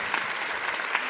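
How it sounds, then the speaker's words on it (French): An audience at a startup pitch event for business angels breaks into dense, steady clapping that fills the short moment. "on peut les applaudir une dernière fois"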